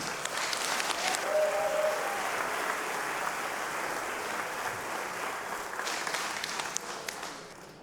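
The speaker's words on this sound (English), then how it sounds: "Give them a big applause, ladies and gentlemen." Crowd at an MMA event applauds the two fighters standing in the ring center, a broad sustained clapping that swells, holds, then tapers near the end.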